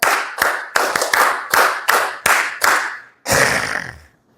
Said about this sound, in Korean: 박수 9번 시작.